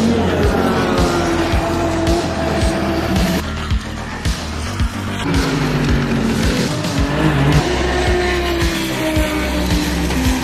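A Ferrari 296 GT3 race car at Spa during the 24-hour race, with a loud, continuous engine roar and rising and falling revs as it shifts gears at speed, heard from on board.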